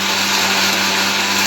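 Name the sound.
mixer grinder grinding food fine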